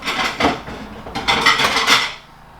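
Ceramic plates and bowls from a full dinner set clatter and clink as they are handled and stacked in a kitchen cupboard, loud and close, with a few sharp knocks and no talk.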